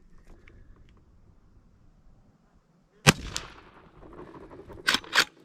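A Marlin 1894 lever-action rifle fires .38 Special at a range: one sharp loud shot with a ringing tail, then a quick pair of cracks near the end, no speech.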